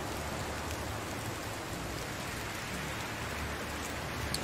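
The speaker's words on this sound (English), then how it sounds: "I'm not going to wait for the evening in the rain, honestly." Steady rain pours in the medieval survival game Medieval Dynasty, a dense, even hiss that fills the scene from start to finish with no voices.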